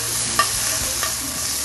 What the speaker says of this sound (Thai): ผมตั้งน้ำมันร้อนเลยนะครับแล้วเราก็จะใส่พริกแกงที่เราตำเอาไว ้พร้อมที่จะผัดให้หอม